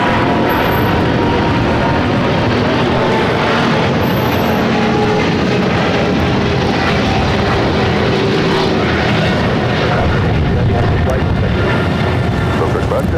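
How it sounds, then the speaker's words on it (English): An Austrian Airlines Boeing 777-200ER takes off at LAX bound for Vienna, its engines a loud, continuous broadband roar throughout, with a voice talking over it. "This is Austrian Airlines Flight 82 taking off to Vienna, Austria, the 777-200ER"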